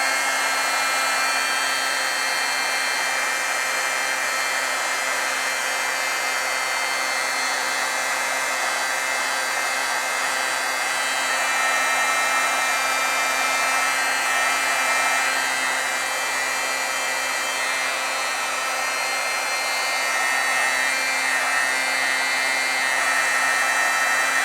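A heat gun blows steadily to heat-set layers of stamped ink on paper, a continuous loud airy whoosh with a faint motor whine that holds level for the whole stretch, no talk over it.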